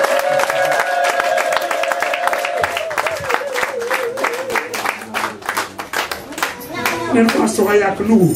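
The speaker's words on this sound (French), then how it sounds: "nous voulons applaudir pour bénir sa vie" Worshippers at a church service clap rhythmically for the prophet, sharp repeated hand strikes in a steady beat alongside voices singing and speaking over them.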